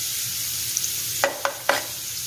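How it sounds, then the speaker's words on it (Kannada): Ginger garlic paste frying on a tawa for tawa rice, a steady close sizzle with three quick scraping stirs near the end. "ಈಗ ಶುಂಠಿ ಬೆಳ್ಳುಳ್ಳಿ ಪೇಸ್ಟ್ ಹಾಕ್ತಾ ಇದ್ದೀನಿ"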